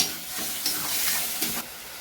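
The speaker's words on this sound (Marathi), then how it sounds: "आपण याच्यामध्ये अद्रक लसणाची पेस्ट टाकून घेतलेला आहे त्याला पण छान असं फोडणीमध्ये परतून घ्यायचे" Ginger-garlic paste fries in a tempering for pav bhaji, a soft, steady sizzle with a few stirring scrapes, fairly quiet and without any voices.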